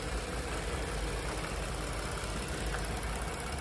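A 2019 Ford Transit 150 cargo van's 3.7 liter V6 gasoline engine runs at a steady idle, a dense continuous drone close to the microphone with no other sounds.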